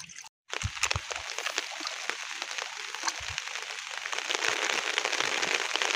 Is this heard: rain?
yes